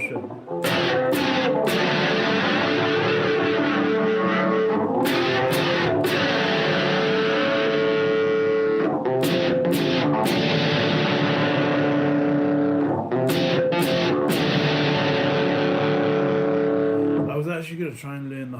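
An electric guitar with a distortion effect plays a loud, continuous riff of repeating chords, broken by short percussive gaps and ending with a brief scrape.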